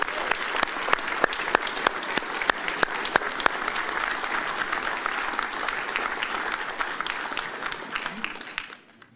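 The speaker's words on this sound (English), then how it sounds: "I just want to put a massive round of applause to the other candidates here" Rally audience at a Reform UK general election event in Boston and Skegness applauds the candidates, a sustained crowd of clapping hands with sharp individual claps standing out, steady then fading away at the end.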